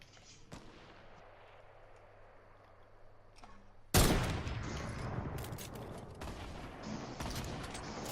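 Gunfire in a video game shooter match: after a quiet stretch with one sharp crack, a sudden loud burst of heavy firing erupts and continues with repeated shots and rumble, close and intense.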